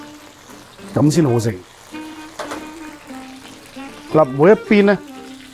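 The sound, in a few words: lemongrass pork chops frying in oil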